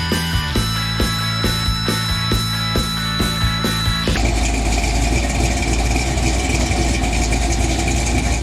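A 1996 Polaris Sportsman 500 ATV engine runs at a steady, rhythmic idle, then catches and roars up into a louder, rougher, sustained running note partway through, close by with no voices.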